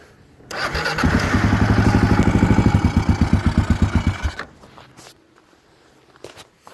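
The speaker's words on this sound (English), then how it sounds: "The exhaust makes the bike sound nicer." A cold motorcycle with an aftermarket exhaust starts up and runs with a loud, deep, throbbing exhaust note for a few seconds, then sputters and cuts out, leaving quiet knocks.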